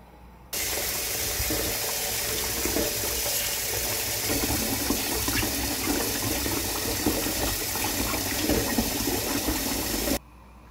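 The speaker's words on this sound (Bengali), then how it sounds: "এটা রুই মাছ, ভালো করে ধুয়ে নিলাম।" Rohu fish is washed under a running tap, a steady rush of water splashing into a sink that starts and stops abruptly, with no voices.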